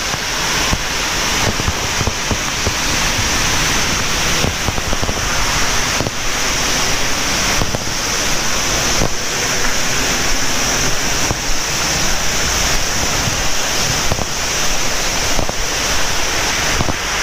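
Steady, loud rushing water near the Curug Jepang waterfall, a constant broadband roar with wind buffeting the microphone throughout.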